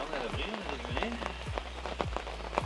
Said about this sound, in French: une forte pluie s'invite